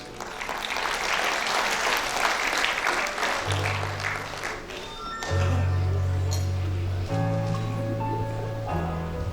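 An audience applauding at a school felicitation day in Goa, a dense burst of clapping that tapers off as sustained music tones come in and take over.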